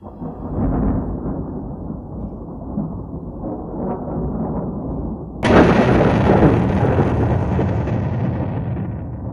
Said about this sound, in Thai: มีฟ้าผ่าบริเวณใกล้เคียง